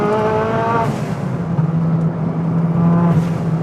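A street-legal Honda Civic hatchback with a big turbo accelerates hard from inside the cabin, its engine a loud steady drone with rising harmonic tones, the pitch climbing and then easing off.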